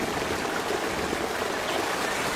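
Floodwater rushing during a storm in a Hindi cartoon, a steady, dense wash of rushing water with no breaks or voices.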